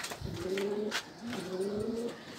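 Pigeons coo close by in two soft, rolling, throaty calls, each lasting under a second, with a light rustle between them and no voices.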